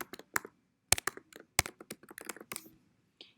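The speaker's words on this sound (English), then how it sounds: "so I'm going to type in my username" Typing on a computer keyboard to enter a username: sparse, irregular clicks and taps, close and crisp, with short pauses between bursts of keystrokes and no voices.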